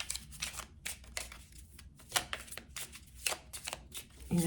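Tarot cards being shuffled in quick, papery riffling bursts, close up and fairly quiet, repeating in irregular bouts without talk.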